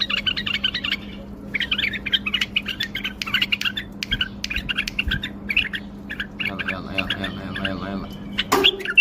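A pet bulbul sings from its cage in a run of bright chirps and warbled phrases, close and fairly loud, with a steady low hum underneath and a sharp knock near the end.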